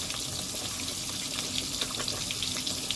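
Katla fish frying in oil in a pan, a steady bright hiss and crackle with small sputtering pops, close and continuous with no talking.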